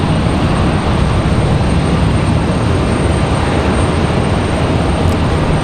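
A CRJ regional jet taxis at Raleigh-Durham International Airport, its engines giving a steady, continuous broadband rumble and hiss that holds level and fairly loud throughout, with no voices.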